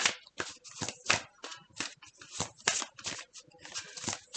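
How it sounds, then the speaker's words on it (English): A deck of cards is shuffled repeatedly in quick riffling bursts, close and crisp, with short pauses between shuffles and no talking. "I'm just gonna shuffle 3 more times and deal from the top."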